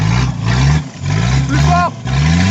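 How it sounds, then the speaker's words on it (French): An off-road 4x4 engine revs in short throttle bursts, rising and falling twice with a brief dip between. Loud and close on an outdoor trail, with voices calling over it. "Remets du gaz, c'est en à-coup."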